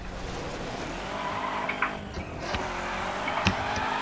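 A car in The Crew racing game spins out, its tires squealing and skidding over a loud steady engine roar, with a few sharp thumps along the way and no talking.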